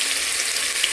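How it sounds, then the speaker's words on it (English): Onions with salt fry dry in a pan without oil, giving a steady close hiss of sizzling with a faint crackle through a brief second, no voices. "So I'm just going to keep stir frying the onions"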